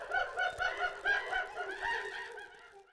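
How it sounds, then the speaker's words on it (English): Layered sound effect of monkey chatter blended with bird caws, a run of rhythmic, close, pitched calls that grow smoother and more drawn out toward the end. "So the sound starts out as a monkey, and then at the end it's like caw, caw."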